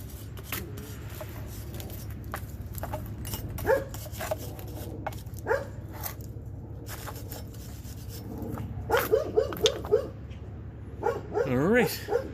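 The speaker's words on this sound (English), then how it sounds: "I think the doggy's gonna be barking soon." A husky yips and barks in short bursts, rising toward the end, over a low engine-like hum and occasional clatter.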